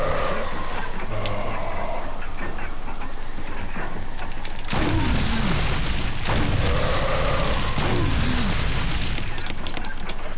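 Game grenades going off in Resident Evil with Jill, two heavy booming blasts a few seconds apart over a noisy, busy background, each followed by a descending rumble.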